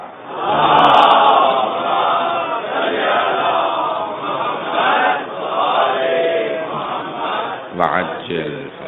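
A large gathering at a religious sermon loudly recites salawat together, a dense roar of many voices in unison lasting several seconds, close and full, fading into a few scattered voices.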